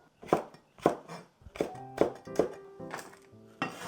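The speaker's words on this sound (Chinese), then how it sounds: "接下来我们给它青红椒切片，" Knife slicing green and red peppers on a cutting board while preparing stir-fried beef with onions, a steady series of about nine crisp chopping taps close by, with no talking.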